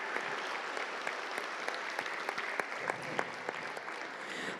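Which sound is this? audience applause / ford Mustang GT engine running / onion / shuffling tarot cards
audience applause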